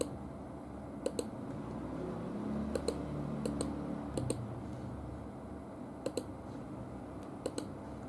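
Password keystrokes on a computer keyboard while resetting a Dahua DVR, sparse pairs of sharp close clicks spaced a second or so apart over a quiet room hum.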